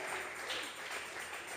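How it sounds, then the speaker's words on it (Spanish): A church congregation claps in a faint, steady patter of applause, distant and diffuse throughout. "Vamos a regalarle ofrenda de palmas al Dios de la gloria."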